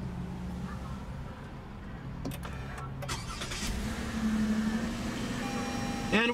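A Toyota Avalon's 3.5-liter V6 starts with a brief crank at push-button ignition, then settles into a steady, fairly quiet idle hum nearby.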